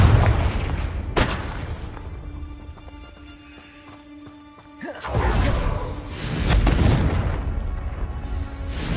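A Confringo fire-spell explosion in Hogwarts Legacy sounds as a loud booming burst, then a quieter stretch of game sounds and a second powerful rumbling blast with a long roaring tail.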